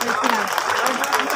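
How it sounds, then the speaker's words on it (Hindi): An audience at a community mass wedding ceremony bursts into loud, sustained applause in a welcome, a dense clatter of clapping with voices mixed in. "पूरा जोरदार ताली से स्वागत करेंगे।"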